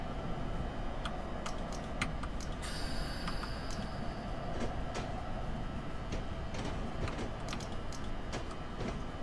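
A train locomotive from Train Simulator 2017 rolls in with a steady rumbling drone, regular clicking ticks of wheels over rail joints, and a brief hissing burst near the start.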